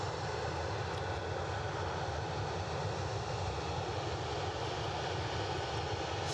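A Jet2 jet airliner taxis at Edinburgh Airport, producing a steady, unbroken engine roar and rumble heard from a moderate distance, with no speech over it.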